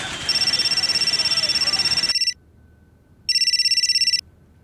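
A telephone rings with an electronic tone in two bursts, the first lasting about two seconds and the second about one second after a pause, heard clearly with no talk over it.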